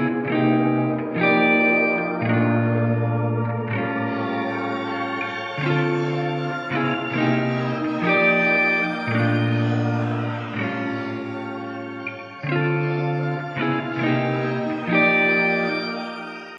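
A synth-heavy music loop in FL Studio 21 plays steadily with warbling, shifting tones and effects, its pitch bending through sections from a pitch shift knob, without any voices.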